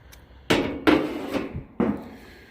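A metal lid is set over a 28-inch Blackstone griddle, producing several sharp clanging knocks, one after another, with short ringing decays, close and fairly loud.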